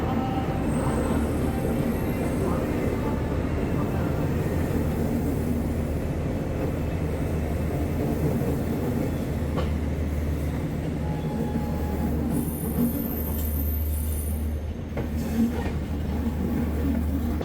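The Chennai Express pulls out of Mumbai LTT station with a continuous low rumble of rolling wagons, plus faint squeals and clatter from the wheels and track throughout.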